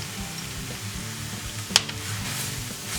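Curry powder and turmeric are stirred into softened onion and apple in a pan, giving a steady low sizzle with one brief sharp utensil clink midway and no voices.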